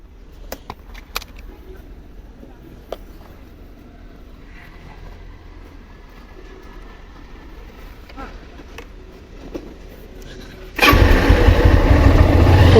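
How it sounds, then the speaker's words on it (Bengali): A Honda X-Blade motorcycle sits quiet with faint ambient noise and a few clicks, then its engine suddenly roars loud and close near the end as it accelerates hard from a standstill on a local road. "তো চলুন দেখাই 0 থেকে 100 উঠতে এই বাইকটিতে কতটুকু সময় লাগে।"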